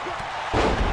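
A wrestler's running knee strike lands in a wrestling match as a single heavy, booming thud in the second half, loud and close, with a crowd or commentary murmuring underneath.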